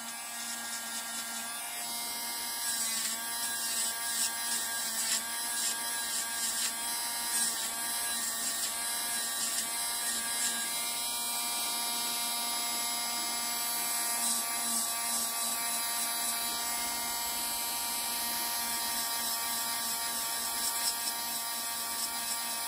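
An electric nail file drill hums steadily at a high pitch as its bit works across a fingernail, a thin continuous whine with slight buzzing that holds throughout, close up and fairly quiet.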